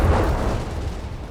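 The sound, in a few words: German artillery battery barrage in video game Company of Heroes 3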